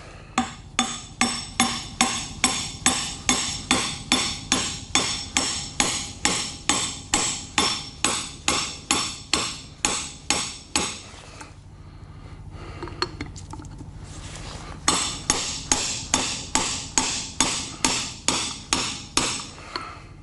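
A hammer strikes a seal driver to seat a wheel bearing seal on a utility semi trailer, a steady run of sharp metallic blows about twice a second, a pause of a few seconds, then the rhythmic strikes resume.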